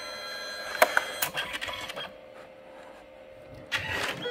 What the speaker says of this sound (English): leave space behind the printer because it goes back and forth in and out